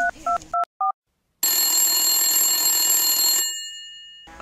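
An old telephone rings in a radio-play scene while someone calls the operator: a few short loud ring bursts, a pause, then a long continuous ring that fades out.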